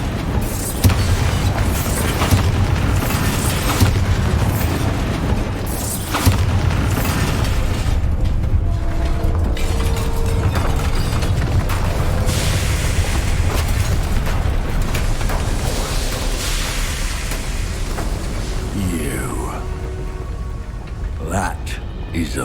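Repeated Bombarda spell explosions in the Hogwarts Legacy video game, loud booms and debris bursts rolling through a continuous roar of game combat, with several sharp detonations early and a steadier rumble later.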